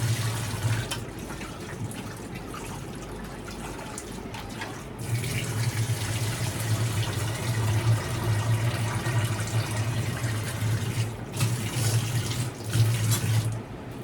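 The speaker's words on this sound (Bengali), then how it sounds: "আমি ডালটা ভিজিয়ে রেখেছিলাম, ওইটাতে এখন ভালো করে একটু ধুয়ে নেই" Running tap water pours steadily over soaked dal being washed for dal puri, a continuous splashing rush with brief pauses and louder surges near the sink.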